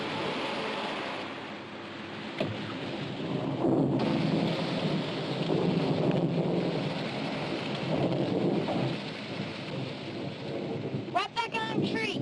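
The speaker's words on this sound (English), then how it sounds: "We're gonna beat the rain." Steady rain falls during a thunderstorm, with low rolling thunder rumbles swelling over the constant wash of rain and faint voices near the end.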